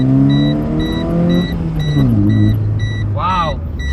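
A new car accelerates hard, its engine tone climbing steadily in pitch and loudness, heard from close by inside the vehicle with a few brief high electronic beeps.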